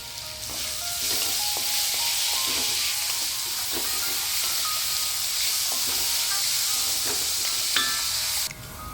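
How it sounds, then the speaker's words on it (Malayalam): Crushed garlic and ginger sauté in hot oil for a Kerala beef fry, giving a loud, continuous hiss and sizzle. Scattered clinks of stirring sound close by, and the sizzle cuts off near the end. "ചതച്ചെടുത്ത് കൊണ്ടുവന്നിട്ടുള്ള വെളുത്തുള്ളിയും ഇഞ്ചിയും നമുക്കിതിലേക്ക് ചേർത്ത് കൊടുത്ത് നന്നായി വഴറ്റി കൊടുക്കാം"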